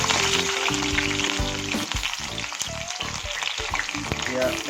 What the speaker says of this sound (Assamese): এতিয়া তেজপাতৰ সৈতে কটা পিঁয়াজ দি দিলোঁ